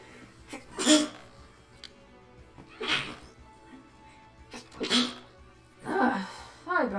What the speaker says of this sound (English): Excuse me for that sneeze